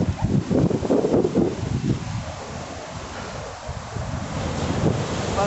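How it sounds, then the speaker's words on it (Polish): North Sea waves break on a beach in Holland in late winter, a broad, loud surf wash that swells early, then settles into a steadier roar mixed with strong wind buffeting the microphone. "posłuchajcie tego kojącego tak, szumu morza"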